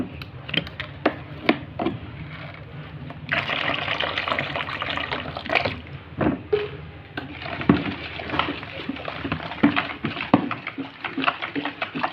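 A litre and a half of water splashes and gurgles into a container for homemade dish soap for several seconds, with scattered clatter and knocks around it.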